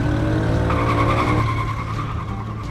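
A car's wheels spin and skid in the Roblox video game, a loud sustained tire squeal over a steady engine drone that eases slightly toward the end.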